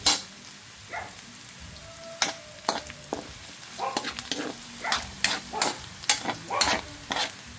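Garlic fries in a pan for a Baguio beans vegetable dish, with a soft ongoing sizzle broken by repeated sharp scrapes and knocks of a spatula against the pan.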